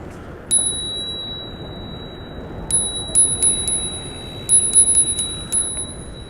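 A bicycle bell rings in bright metallic dings, first a single ring, then several quick clusters over a low street-like background rumble, close and clear.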